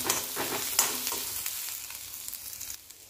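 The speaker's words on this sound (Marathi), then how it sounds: "कांदा आणि काजू भाजत आलेला आहे" Onion and cashews fry in a little oil, with a crackling sizzle broken by several spatula scrapes early on, then easing into a quieter hiss, heard close with no speech.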